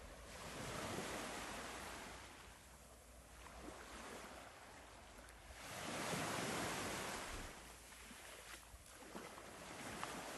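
Ocean waves washing in over wet sand in the bay of Mont-Saint-Michel, a broad continuous surf that swells and recedes twice, with wind noise on the microphone and no voices.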